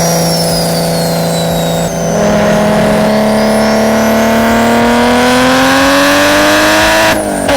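A BMW E92 335i fitted with a single turbo kit, its engine loud and close, climbing in a long sustained rev with a steady rising pitch and no talking.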